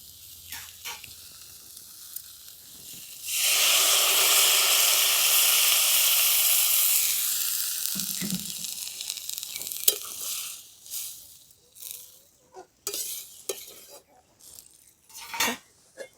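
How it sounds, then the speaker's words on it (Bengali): Water poured onto vegetables frying with salt and turmeric sets off a loud, sudden rushing hiss that holds for several seconds and fades, followed by scattered clinks of utensils and a voice. "এরপর আমি দিয়ে দেবো জল"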